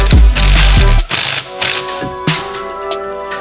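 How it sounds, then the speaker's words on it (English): A ratchet clicks in short bursts while bolts are tightened onto a turbo manifold during a turbo install on a car, loud and close, with a few separate metallic ratcheting runs and clanks. "So we're just gonna bolt this to the manifold"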